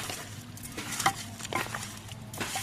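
Hands mixing chicken pieces with spices, salt and oil for a marinade, making a brief run of close, wet, squelching stirs.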